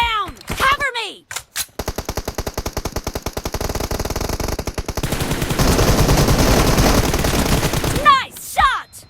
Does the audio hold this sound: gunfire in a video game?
yes